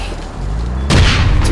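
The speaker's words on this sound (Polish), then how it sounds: "Ah, ładne są te wybuchy w sumie." An explosion booms loudly in the online shooter game All Points Bulletin, a sudden sharp blast cutting through a quieter rumbling background partway through, followed by a crackling roar.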